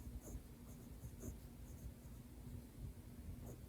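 Esterbrook fountain pen with a subtle stub nib, like a smooth italic, gliding across paper in a quiet, continuous close scratch with faint stroke accents.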